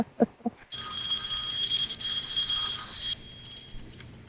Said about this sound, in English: Someone's phone ringing during the middle of the broadcast.